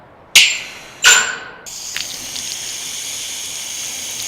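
Water gushes from a tap over freshly sanded pieces. Two short bursts of running water are followed by a steady stream that continues to the end.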